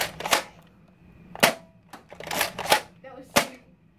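Nerf Zombie Strike toy blaster firing darts, several sharp plasticky snaps spaced about a second apart, with people talking quietly between shots.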